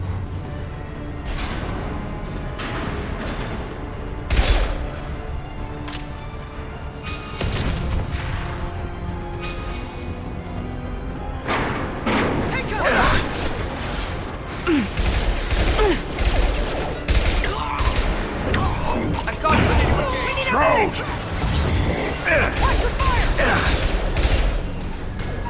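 Gunfire in the sci-fi shooter Mass Effect 2, repeated sharp shots and bursts at an irregular pace that grow denser in the second half, loud and close with mechanical battle clatter.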